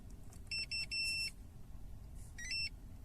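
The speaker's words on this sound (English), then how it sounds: "bleep to confirm that the code is correct" StarLine i96 immobiliser in a VW Passat giving confirmation bleeps: three short high tones in quick succession, then a pause and a pair of bleeps, clear over a low steady cabin rumble.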